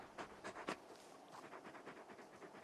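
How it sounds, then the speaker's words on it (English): A large dog in the Final Fantasy XVI video game pants faintly in short breathy bursts, a few sharper huffs at first and then a steadier, quieter rhythm. "You're just a big puppy, aren't you? A very big puppy."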